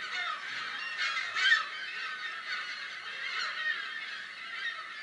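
California gulls calling over Mono Lake, a steady chorus of overlapping squawks and honking cries from a breeding colony, continuous and fairly distant with a few louder calls standing out.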